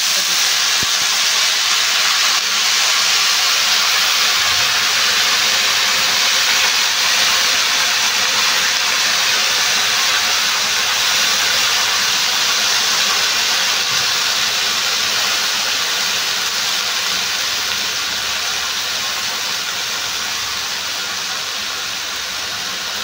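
Kalmi greens drop into a pan of fried onion, green chilli and garlic, giving a loud, steady, broad sizzling hiss that fades only slightly over the whole stretch.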